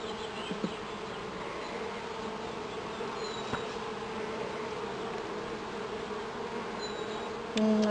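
A top bar hive in spring, opened for inspection, gives off a constant close buzz of honey bees, even and unbroken, with a few individual bees whining past and a light knock near the end.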